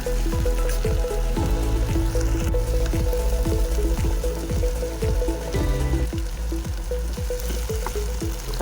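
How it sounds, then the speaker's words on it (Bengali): Water poured into a simmering bottle gourd kofta curry in a pan, a steady sizzling hiss and splash with repeated clinking from stirring, close and fairly loud throughout. "এরপরে আমি এর মধ্যে পরিমাণ মতো জল দিয়ে দিলাম"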